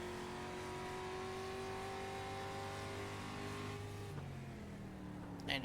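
Race cars in a tube-frame class run flat out down a straightaway at Laguna Seca, engines holding a high sustained drone that shifts pitch as they pass, then fades into a quieter rumble.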